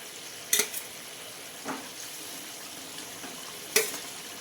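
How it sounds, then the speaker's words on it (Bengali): Eggplant pieces sizzle in a pan of hot oil and spiced liquid, with a steady low frying hiss broken by a few sharp crackles and a soft clink. "এবারে দেখুন বেগুনগুলো আমি বসিয়ে দিচ্ছি"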